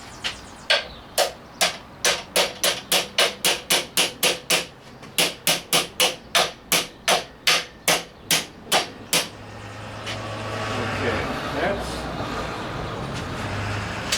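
About two dozen sharp metallic hammer strikes ring out in a quick, even rhythm, then stop, leaving a rising mechanical rumble.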